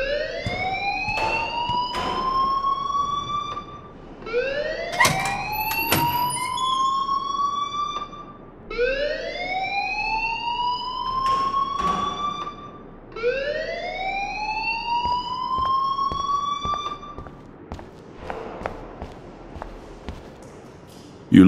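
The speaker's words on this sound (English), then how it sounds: "please turn off that alarm since that's your job" A school alarm in the video game Life is Strange sounds as a loud electronic siren. It repeats in rising whoops every few seconds, with some sharp clattering thuds and background game noise between them.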